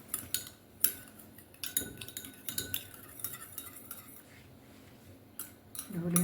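A coconut oil mixture being stirred in a bowl, with quick clinking and scraping of a utensil against the sides, close and irregular.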